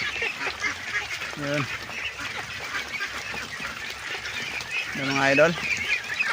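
Domestic ducks eating azolla feed give loud quacking and honking calls in two clear bursts over a busy, splashy background, while someone talks nearby.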